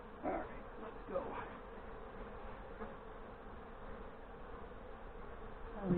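Honey bees buzzing around an old hive during a nuc install in northern Michigan, a dense, continuous swarm hum close by, fairly faint overall with occasional louder passes of individual bees.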